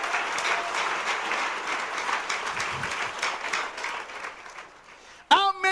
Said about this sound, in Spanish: Denle fuerte ese aplauso.